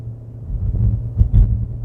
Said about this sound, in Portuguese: o barulho do motor invade a cabine